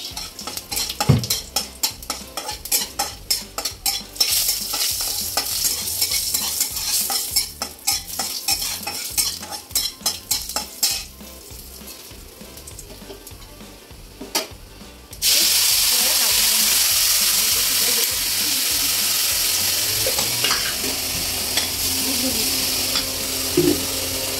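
Fish fries with spices, dried red chillies and cloves in mustard oil, a stirring spoon clattering rapidly against the pan over a crackling sizzle, then the frying swells into a loud, steady hiss, with a voice speaking faintly at moments.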